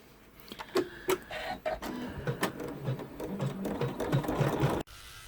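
Embroidery machine stitching a satin stitch on a vinyl scallop pouch in the hoop, a steady close mechanical whir with rapid rhythmic needle taps throughout, cutting off abruptly near the end.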